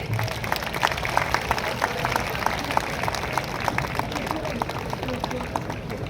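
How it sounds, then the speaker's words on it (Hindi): Crowd applause welcoming someone at a public gathering in Jharkhand, India, a dense continuous patter of many hands clapping at steady volume throughout, with a voice faintly audible beneath it. "जोरदार तालियों से इनका स्वागत करें।"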